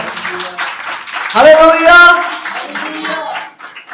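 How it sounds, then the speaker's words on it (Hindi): A church congregation at an Easter Sunday service breaks into a short, loud burst of clapping, while a preacher's voice speaks before and after it. "यीशु के लिए जोरदार तालियां बजाएं।"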